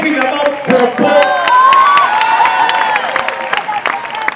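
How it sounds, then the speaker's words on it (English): Audience at an awards ceremony in a Kampala hotel breaking into loud applause and cheering, with dense clapping, whoops and shouting voices mixed with music throughout the short burst. "Big round of applause."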